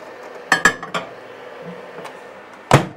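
Frozen chicken set down into a microwave makes a few sharp clinks and knocks of dishware near the start, then a single louder knock, with no talking.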